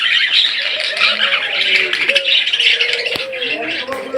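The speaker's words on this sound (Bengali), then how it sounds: "সবগুলো রানিং বাজিকের পাখি" A flock of caged budgerigars in assorted colours chirps and squawks in a dense, continuous chatter, close and fairly loud, with shrill calls overlapping throughout.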